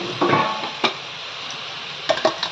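Spring onion, capsicum and carrot stir-fried in a pan, with a soft sizzle beneath a few scraping clinks of the spatula against the metal over a couple of seconds.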